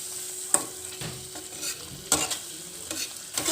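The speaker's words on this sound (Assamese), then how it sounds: "লৰাই লওঁ।" Paneer masala with a little cashew paste being stirred in a frying pan, soft scraping strokes recurring every half second or so over a faint steady sizzle, close and fairly quiet.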